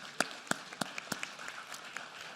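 Sparse, faint scattered claps from a few hands, irregular and thinning out, honoring the chief of safety during a superintendent's State of Public Education address.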